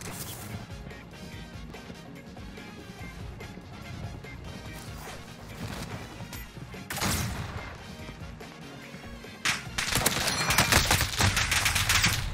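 Explosions and gunfire ring out in a Warzone Pacific match: a dense, continuous clatter of shots and impacts, with heavier blasts swelling around the middle and a loud, sustained barrage toward the end.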